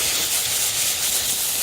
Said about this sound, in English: So here is our sausages braising nicely